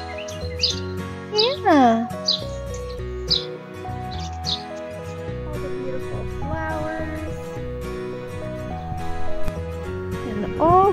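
Birds chirp and tweet outdoors on a spring walk, with bright, repeated calls scattered through the first few seconds and again near the end, all under steady background music and a brief spoken word.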